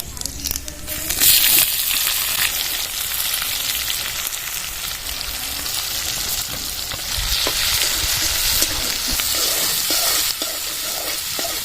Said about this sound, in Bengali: ফোড়নের জন্য গোটা জিরে চারটে শুকনো লঙ্কা দুটো তেজপাতা দিয়ে দেবো কোচানো পেঁয়াজটা দিয়ে দেবো